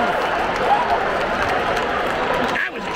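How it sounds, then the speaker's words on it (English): A roaring baseball stadium crowd cheers during a Phillies game against the Tampa Bay Rays, loud and continuous, with a nearby voice shouting over it and a brief dip near the end. "The crowd's going wild!"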